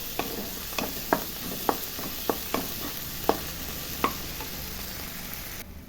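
Crab masala fries in a pan as the oil bubbles out, a soft steady sizzle broken by sharp stirring taps against the pan, close and without talk.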